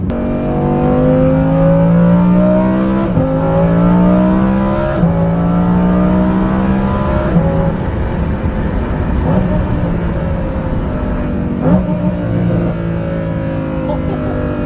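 A Lamborghini Huracan Performante fitted with a Kline exhaust system accelerates hard, its loud, close engine note climbing in repeated rising sweeps broken by quick gear shifts, with a steady roar throughout.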